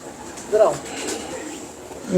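Pigeons kept by a pigeon fancier give a couple of soft, low coos close by, brief and separated by quiet background.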